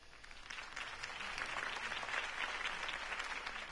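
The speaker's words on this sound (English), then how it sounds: "If only Mr. Wayne, my campaign's largest backer, could have heard that applause" Crowd applause in the Batman Telltale video game swells into a dense, continuous patter of many hands clapping, steady and moderately loud throughout.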